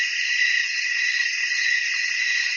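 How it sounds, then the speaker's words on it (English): Crickets chirp in woods at night, a dense continuous high trill held steady and fairly close throughout, with no other sounds. "They heard crickets chirping"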